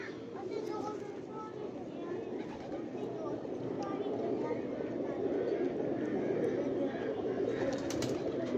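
Domestic pigeons coo softly in a rooftop loft, low repeated throaty calls blending with a steady outdoor background, while people talk nearby throughout.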